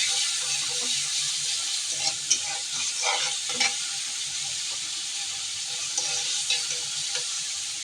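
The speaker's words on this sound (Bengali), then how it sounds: "আমি শাপলা ভাজি পেঁয়াজ দিয়ে পেঁয়াজ, কাঁচা মরিচ, চিংড়ি ভালো করে ভেজে নিচ্ছি।" Water lily stems fry in a pan with onion, green chili and shrimp, a constant soft sizzle with occasional stirring scrapes and clinks.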